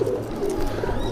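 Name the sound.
Madrasi pigeons cooing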